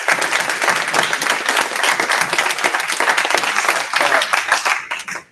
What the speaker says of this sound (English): let's give a round of applause one last time for all the volunteers.